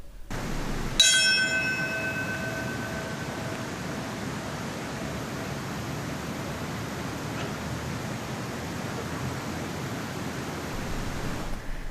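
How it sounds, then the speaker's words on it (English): A single bell struck once at the 9/11 memorial ceremony in New York City, its ringing tone fading over a few seconds above steady broadband crowd and outdoor noise, with no one speaking. "The ceremony in New York City began with a bell ringing and that moment of silence."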